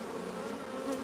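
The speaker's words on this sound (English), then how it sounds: "So robber bees are actually going to steal all this honey." Robber bees swarm around an open beehive to steal honey, producing a dense, continuous buzzing hum from many insects close by, steady in loudness throughout with no talking.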